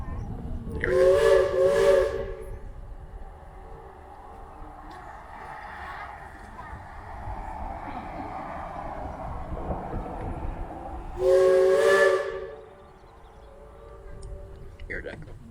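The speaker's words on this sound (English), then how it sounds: "We'll blow the whistle a couple times and listen to the echo." A Cripple Creek and Victor narrow gauge steam locomotive sounds two loud, long whistle blasts several seconds apart in a Colorado valley. The echo rings on between and after them, and voices speak underneath.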